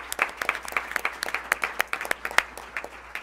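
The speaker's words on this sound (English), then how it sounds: "So I'd like to have another round of applause for all of those amazing awards and accomplishments." Audience applause at a school board of education meeting, a steady patter of many hands clapping together for a few seconds, fairly close and with no talk over it.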